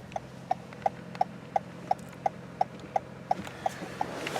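Hazard lights on a 2019 Toyota Camry LE click in a steady, even rhythm, about twelve crisp ticks roughly a third of a second apart over a low background hum, with no talking.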